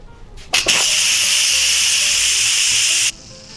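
An Instant Pot quick release after cooking potatoes and eggs: a click and a brief clatter, then a loud, steady hiss of venting steam lasting a few seconds before cutting off abruptly.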